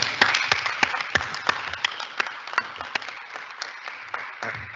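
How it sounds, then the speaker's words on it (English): A small audience claps in a council chamber during a full council budget meeting, scattered individual hand claps ringing out fairly close and steady for several seconds, with no voices over them. "Councillor Bull, you could have given Bob a round of applause there."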